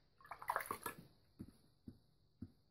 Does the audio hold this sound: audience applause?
no